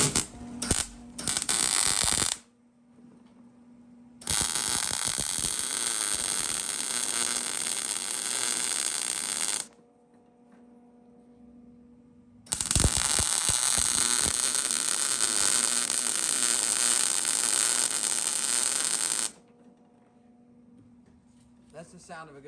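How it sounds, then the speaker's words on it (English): Wire-feed welding on a car in a garage: two long, loud, steady crackling buzz runs of several seconds each, separated by quiet gaps with a low electrical hum and brief talk. "I'm gonna weld for a little bit"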